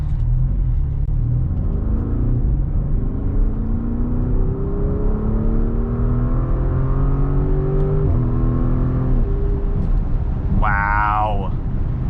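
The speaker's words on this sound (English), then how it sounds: "We are back in our Sport Plus mode, and let's give this some gas." A 2024 Porsche Cayenne S with its V8 in Sport Plus mode accelerates hard, its engine note climbing steadily through the revs, then dropping at a shift and rising again over constant road rumble.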